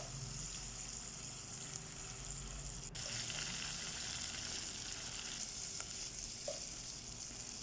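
Chicken pieces deep-fry in oil with a steady, even sizzle and hiss, fairly quiet and continuous, broken by a sharp click and a faint clink.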